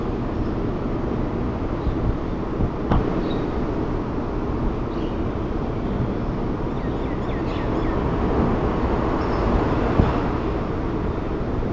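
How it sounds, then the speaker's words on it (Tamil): A steady low rumble of a bullet train in Taiwan pulling away, continuous rolling noise with faint clicks, fairly close and unchanging in loudness. "ட்ரெயின் கிளம்போதுன்னு நினைக்கிறேன்."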